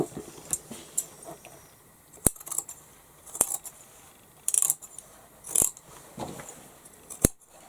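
Scissors cutting through denim fabric from old jeans, a few crisp, separate snips spaced a second or so apart over quiet background handling sounds.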